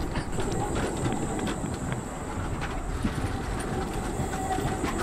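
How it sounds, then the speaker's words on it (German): A tram in the video game Abiotic Factor rolls along its rails, giving a steady rattling rumble with faint rhythmic clacks running evenly throughout. "Ich bin fast aus der Tram geflogen hier."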